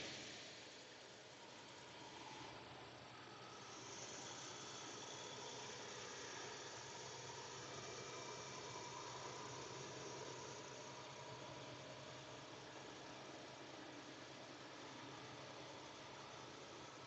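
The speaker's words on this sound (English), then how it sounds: "The truck decelerates down to like 68 before the throttle like kicks in and brings it back up to 70." Steady drone of a truck engine cruising on a flat highway near 70 mph, a continuous broadband road-and-engine rumble with wind noise that holds even throughout, with no talking.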